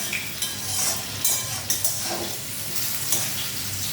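Potatoes fry with cumin seeds in a steady, bright sizzle, broken by several soft spatula taps and stirring scrapes spread over a few seconds, with no talk.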